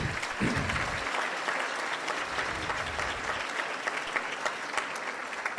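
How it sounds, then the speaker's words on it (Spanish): A closing-ceremony audience at a diabetes science event applauds in a dense, steady wash of clapping that fills the room for several seconds, with a brief louder burst near the start. "Un fuerte aplauso, por favor."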